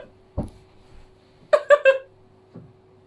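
A loud burp after drinking fizzy Dr Pepper, heard as a triple-pulsed belch in the middle with softer throaty bursts before and after, close and alone.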